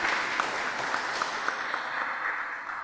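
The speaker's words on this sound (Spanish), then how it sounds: "vamos a recibir con un fuerte aplauso al profesor" An audience at an international law conference applauds to welcome a professor, with moderately loud, even clapping that gradually thins and fades toward the end.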